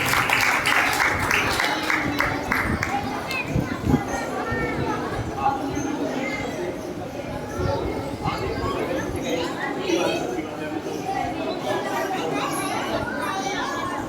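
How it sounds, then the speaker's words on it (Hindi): An audience welcoming a guest speaker, Pandit Ashok from Hisar, at a religious gathering in Gunnour, Sonipat: continuous dense clapping mixed with crowd chatter and children's voices, steady and fairly loud throughout. "जोरदार तालियों के साथ स्वागत और जोश का प्रदान करें"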